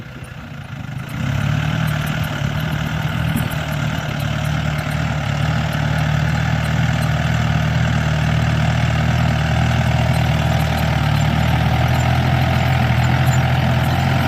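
A new Yanmar YM357A tractor rotary-tills a dry, grassy rice field. Its diesel engine starts up after a moment, then holds a loud, steady low rumble until the end.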